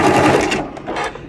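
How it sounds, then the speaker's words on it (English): A sewing machine backstitches along quilt binding, a loud close motor hum with rapid needle chatter running the whole short stretch, alone without talk. "Oops, backstitch."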